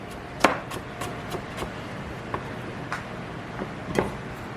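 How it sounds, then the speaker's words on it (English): A kitchen knife cutting a carrot into thin julienne strips on a cutting board, sparse crisp taps at an uneven pace, close up and fairly faint, with no talk. "I cut julienne."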